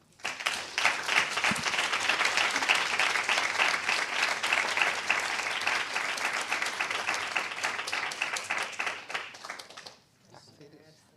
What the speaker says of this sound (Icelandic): Gefum þeim gott klapp.